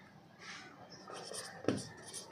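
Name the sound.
writing on a board while solving a maths problem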